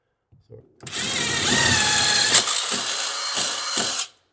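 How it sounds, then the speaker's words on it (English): A power drill whirs loudly and steadily for about three seconds, boring a 5/8 inch hole for a toggle bolt while mounting an over-the-range microwave, with brief knocks before and short bursts of speech or taps afterward. "we're going to drill out the hole for the toggle"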